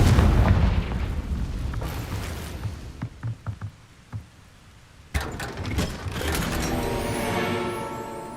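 A Confringo fire spell in the video game Hogwarts Legacy bursts with a loud rumbling blast, followed by a few sharp crackling pops and then a second sudden explosive boom that trails into a long roar.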